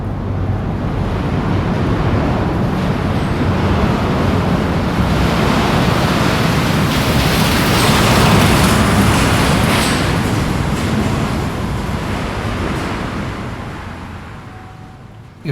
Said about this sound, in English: this construction truck came along, and it was just sort of like a monstrous sound